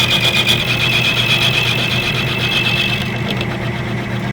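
A power tool grinds steadily to shape a bolt head during a transmission fix on a Hawk DLX 250 motorcycle, a loud close continuous whine that eases off and stops at the end.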